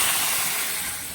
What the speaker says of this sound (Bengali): এখন আমি তরকারির ভিতরে একটু জল দিয়ে দিলাম